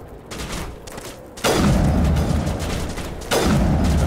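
Heavy gunfire in the Mass Effect game, a sustained loud burst of shots that starts abruptly and runs on. A second hard burst comes in near the end. No one talks.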